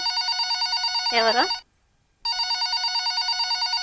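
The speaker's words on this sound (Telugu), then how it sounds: "మా అమ్మ ఫోన్ చేస్తుంది." A telephone ringing close by in repeated electronic trills, interrupted once when a person speaks over it, then a short silence before the ringing starts again.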